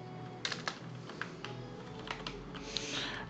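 Code being typed on a computer keyboard, a quiet run of irregular key clicks with a few sharper strikes over a low background hum, close by and with no talk.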